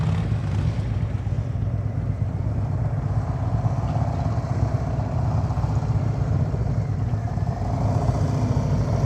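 A motorcycle creeps along at slow speed with the throttle held steady, its engine producing a constant low rumble that stays close and even for the whole stretch.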